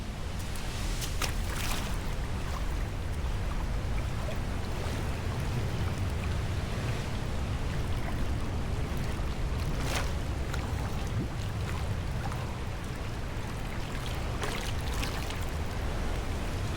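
Ocean waves crash continuously into the rocky tidal pool of Queen's Bath on Eleuthera in the Bahamas, a loud, steady roar of surf with repeated heavier surges breaking through, no voices.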